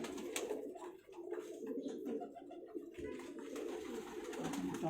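Show pigeons coo softly in a loft, low repeated murmuring calls under a faint steady background, with no one talking.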